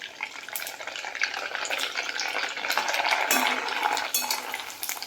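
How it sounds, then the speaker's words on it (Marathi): Nylon sabudana (sago pearls) frying in hot oil, a busy crackling sizzle with stirring and scraping of a utensil in the pan, swelling louder midway, no voices. "आता आपण नायलॉन साबुदाणा तळून घेऊ."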